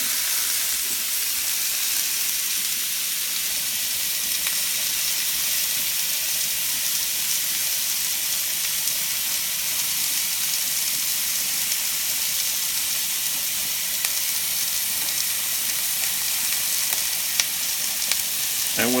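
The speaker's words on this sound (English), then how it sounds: "we're going to transfer the cut side to our hot pan." Chicken pieces laid cut side down in a hot pan sear with a continuous, even hiss and sizzle over nineteen seconds, close up and without talk.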